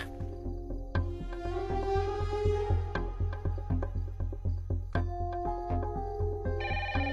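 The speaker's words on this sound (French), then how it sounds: "Pourquoi vous décrochez pas? Ça a déjà sonné 2 fois." A telephone rings repeatedly in a French drama scene, a steady electronic ringing pattern mixed over a dense musical backdrop with regular pulses throughout; no clear talk is heard.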